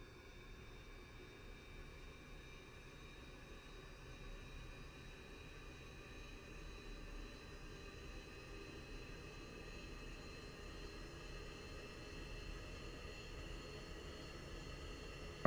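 An F-16 jet engine spooling up during a start in the DCS flight simulator, a steady, fairly quiet broadband roar with a faint high whine that slowly builds in loudness, with no talk over it.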